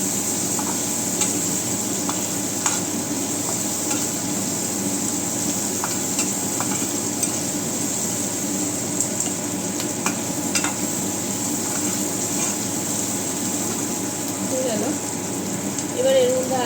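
Vegetables for paneer capsicum masala, seasoned with salt, turmeric and cumin powder, fry in a pan with an even, constant sizzling hiss and occasional faint clicks from stirring.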